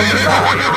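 A horse whinnies loudly and close, a single sustained neigh with rising and falling pitch over a steady low hum, heard during a Halloween-themed outing.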